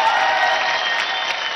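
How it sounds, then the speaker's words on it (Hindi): A television dance-show audience applauds after a dance performance, a brief, loud burst of dense clapping with crowd noise. "एक बार जोरदार तालियां तो बजा दो।"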